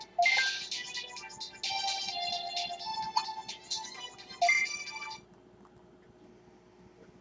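Bright, chirpy electronic music and menu tones from the Digimon World 3 game running on an emulator on a Cherry Mobile Omega HD phone play in bursts for about five seconds, then drop to near silence.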